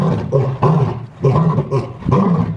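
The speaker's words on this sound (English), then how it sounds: "lion roar" A lion roars in a series of deep, rumbling bursts, three or four close, loud calls separated by brief pauses, with no voices present.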